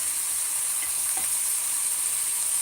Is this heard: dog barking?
no